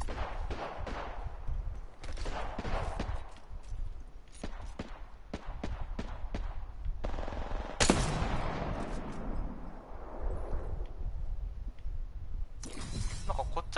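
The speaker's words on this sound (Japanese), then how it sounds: "撃たれてる。" Dense gunfire in the video game Apex Legends: rapid bursts of shots for several seconds, then a loud blast and more scattered fire near the end, with faint game sounds underneath.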